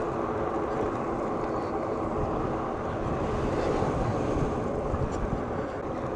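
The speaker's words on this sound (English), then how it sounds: "the wind right here on the road is pretty strong" Strong wind buffets the microphone on an open road, a dense, continuous rushing roar at fairly steady loudness throughout, with no talking.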